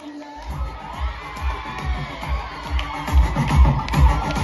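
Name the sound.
audience applauding at a college arts festival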